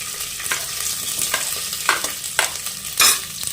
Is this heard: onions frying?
yes